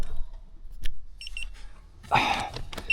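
A few short electronic beeps from a child car seat alarm sound in a quiet interior, followed by rustling and handling noise and another faint beep.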